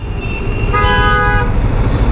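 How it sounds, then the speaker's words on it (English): Car horn honking at a red light on a city road in India, one sustained toot near its middle over steady traffic rumble. "This asshole is actually honking and telling the next car to move, to jump the red light."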